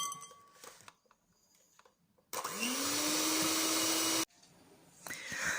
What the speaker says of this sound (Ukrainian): Починаємо легенько збивати.